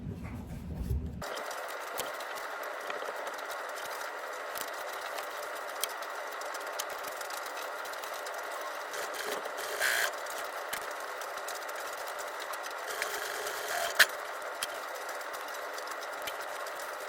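A sewing machine stitches darts into a bag lining, running steadily and continuously at close range with a constant mechanical hum and small rattles, no talk.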